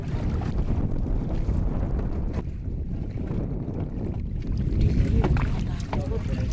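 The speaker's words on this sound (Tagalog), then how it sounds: "Malakas lang yun talaga yung hangin. Hanging amihan to." Strong northeast monsoon wind buffets a boat at sea, a steady loud roar of wind on the microphone mixed with wave wash, rising slightly near the end.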